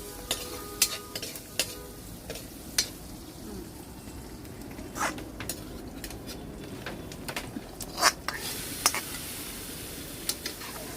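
Potatoes fry in a pan with a soft continuous sizzle, broken by sharp scraping and clinking as they are stirred, fairly close and without talk.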